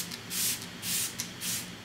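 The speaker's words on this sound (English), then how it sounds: "setting my face using the Smashbox Photo Finish Water Primer, which I like to use as a setting spray" Three short hissing bursts of Smashbox Photo Finish Water Primer misted onto a face as a setting spray, close and crisp, evenly spaced with brief pauses between them.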